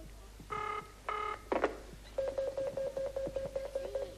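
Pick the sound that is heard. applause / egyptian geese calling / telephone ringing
telephone ringing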